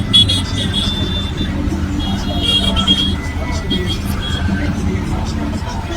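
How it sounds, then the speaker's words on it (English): Traffic jam on a busy street in Paynesville, with cars, tricycles and buses idling and rumbling in a steady low roar, while people talk nearby. "This place is noted for a traffic jam."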